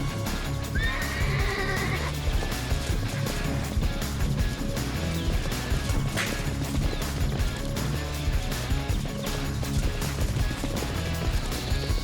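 Wild Brumby horses in Australia neighing while being mustered; a clear whinny rises early and further calls follow over a dense, continuous rumble of movement and background noise.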